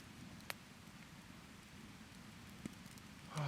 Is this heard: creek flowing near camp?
yes